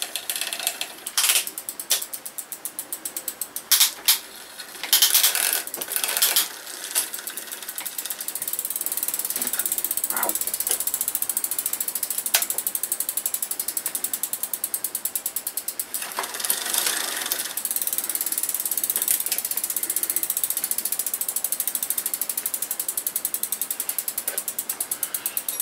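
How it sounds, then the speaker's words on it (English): A ratchet tool clicking rapidly while unscrewing a screw on a bike under repair, close and fairly loud, with bursts of pawl clicks and longer steady ratcheting runs. "See if this screw will unscrew a bit more."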